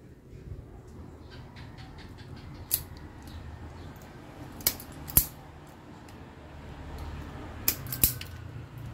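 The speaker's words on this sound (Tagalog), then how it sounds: "Tapos putulin natin ng dalawa. Tapos balatan natin." Electrical wire being cut in two and its insulation stripped, with sharp snips at scattered moments over a low background hum; no talk.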